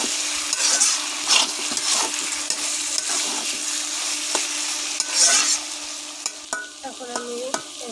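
Potatoes fry with a steady sizzle in a pan while being stirred, scraping strokes of the utensil recurring every second or so against the continuous crackle, close and moderately loud with no talk.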